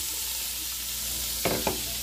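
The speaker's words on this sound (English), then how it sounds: "I love it when I put stuff on the stove and it makes that shh noise" Kielbasa sausage sizzles steadily in hot oil in a pan on the stove, a soft continuous hiss with a couple of brief louder crackles near the end.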